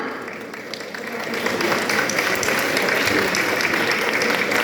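Audience at a lawyers' rally breaks into applause for a speech, clapping building from moderate to a loud, dense, sustained ovation that fills the space without any talk.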